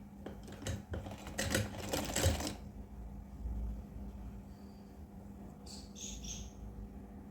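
A sewing machine stitches fabric for a small Laddu Gopal doll dress, a fast, rattling run of stitching for about two and a half seconds, then quieter mechanical hum and a few faint high ticks.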